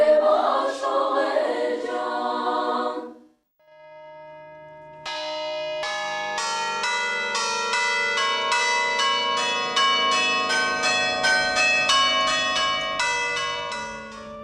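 Church bells ringing for Easter in Armenia, ringing out in repeated overlapping metallic strikes with long sustaining tones, loud and close, after a brief quieter opening of other sound and a short gap.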